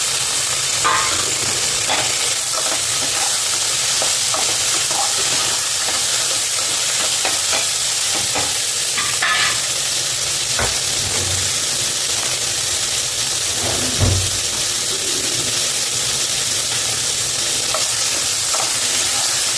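Onions sauté in a hot pan, giving a continuous even sizzle and hiss, with occasional scrapes and clinks from stirring throughout and no voices.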